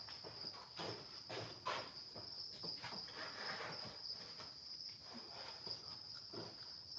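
Crickets in breeding bins keep up a constant shrill, high chirring, faint but unbroken throughout, with occasional soft knocks and rustles nearby.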